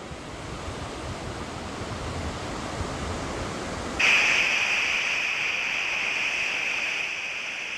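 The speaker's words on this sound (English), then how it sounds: "The waves had picked up a little," Ocean surf at East Telegraph Beach roars in a steady, even wash of noise, with a brighter hiss layered in partway through, continuous and fairly soft.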